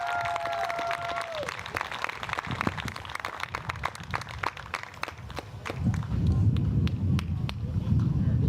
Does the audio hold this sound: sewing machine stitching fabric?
no